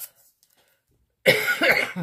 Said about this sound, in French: j'ai eu une grosse toux là